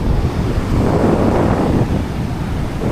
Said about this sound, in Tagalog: Sobrang lalaki ng alon. Ayun na yung epekto ng bagyong Inday.